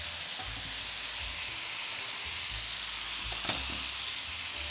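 Chicken sizzles steadily in a pot, a dense continuous crackle with occasional clinks and scrapes as it is stirred, close and even throughout.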